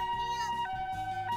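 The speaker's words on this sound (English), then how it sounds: "Then I hear a loud siren going wee-oo, wee-oo as an ambulance approaches." An ambulance siren wails loudly in a steady, repeating two-tone cycle.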